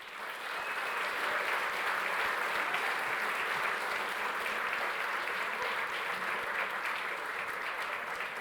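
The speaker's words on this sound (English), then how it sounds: "Let's give another round of applause" An audience at an award ceremony applauds continuously, a dense, even wash of clapping that starts quickly and holds at steady moderate loudness throughout.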